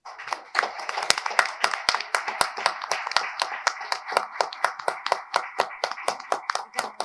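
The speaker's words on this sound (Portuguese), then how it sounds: "que eu peço aí uma salva de palmas" Audience applause at the opening of an international colloquium on the Portuguese language, with a modest group clapping in crisp, closely spaced individual claps that stay fairly even and near throughout.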